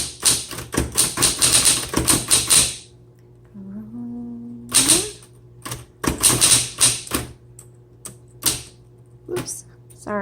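Typing on a 1970s Smith Corona Electra 220 electric typewriter: quick bursts of sharp keystrokes, a short pause with a rising whir from the carriage, then more irregular clacking. A voice talks over it.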